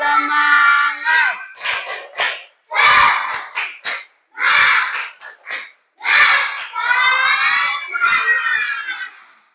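A group of schoolchildren in a classroom performs a loud chanted clapping cheer, shouting rhythmic phrases in unison in bursts with pauses between, the voices carrying the chant along with the clapping.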